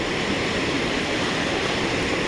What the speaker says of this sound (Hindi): और ये देखिए ये रही नदी।